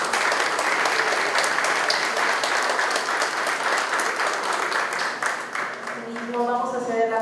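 Sustained applause from a conference audience welcoming an invited speaker at a legal seminar, dense steady clapping throughout that thins slightly toward the end as a voice begins talking over it.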